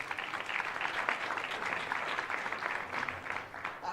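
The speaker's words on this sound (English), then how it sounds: "Let's give them, please, a round of applause." An audience at a press conference at an AME Church claps, a thick continuous patter of many hands at moderate level with no talking over it.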